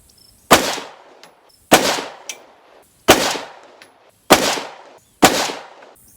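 Five sharp rifle shots from a Springfield Armory Saint Edge fired at an outdoor range, evenly spaced about a second and a half apart, each a loud crack with a ringing decay, with no talking.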